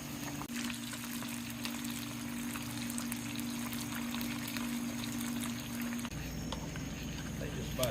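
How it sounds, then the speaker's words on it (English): Battered bluegill bream fish fry in hot oil with a steady, dense sizzle and crackle throughout, with a low hum underneath. "We frying."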